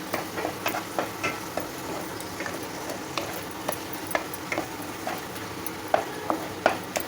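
Spice masala with turmeric and salt fries in a pan over a low flame, a soft background sizzle punctuated by repeated sharp scrapes and taps of a stirring utensil.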